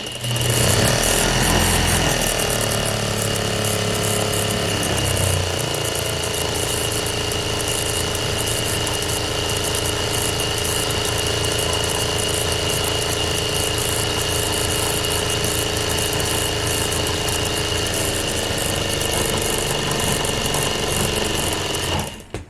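Juki DDL-8700 industrial sewing machine motor spins steadily while winding a bobbin, a continuous whirring hum with a faint rattle, alone and close.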